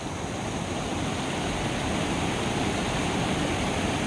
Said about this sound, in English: So here's the creek. It's still running.